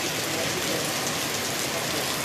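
Rain pouring steadily during a hailstorm in Patna, a dense even hiss of drops hitting surfaces, constant and moderately loud, with no voices.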